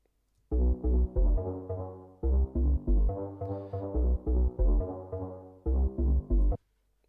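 A basic flute synth preset layered with an 808 bass, playing a series of punchy rhythmic notes with deep booming low end, loud and alone without speech.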